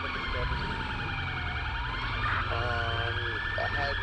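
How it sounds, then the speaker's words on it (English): Police car siren in FiveM GTA V on an Illinois State Police patrol, wailing continuously and loudly up close, sweeping up and down with a yelp-like shift partway through, engine rumble underneath. "You want me to shut your sirens off, or you got it?"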